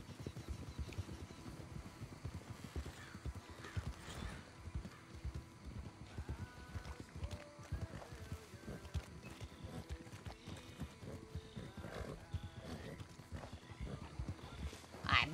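Horse hooves clip-clop steadily in Red Dead Redemption 2, with occasional neighs and whinnies amid continuous game ambience over a steady rhythmic gait.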